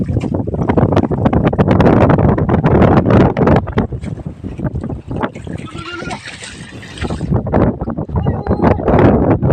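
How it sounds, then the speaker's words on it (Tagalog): Strong wind buffets the microphone in loud, gusty roars, with indistinct voices and the sound of water or a boat moving beneath it. "Lakas ng hangin ay."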